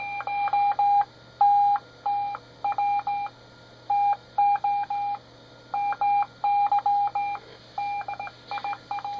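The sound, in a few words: radio transmitter oscillator tone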